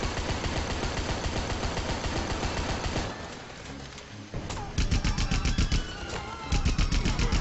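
Loud, close automatic fire in Rambo: The Video Game hammers in rapid bursts, pauses briefly in a quieter murky stretch, then returns in sharp, dense volleys.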